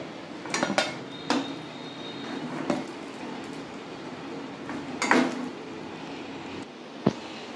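Fried vegetable momos are lifted out of a pan one at a time, with a few sharp metal clinks and scrapes of a utensil against the pan spaced irregularly over a low kitchen background.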